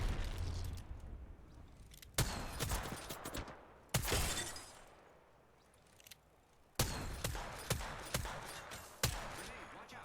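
Gunfire and blasts from a video game battle, several sharp loud bursts and volleys with quieter stretches between them.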